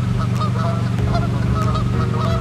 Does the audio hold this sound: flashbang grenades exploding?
no